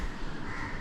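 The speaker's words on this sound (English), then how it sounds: "And there's a crow." A crow gives a single harsh, loud caw, brief and raspy.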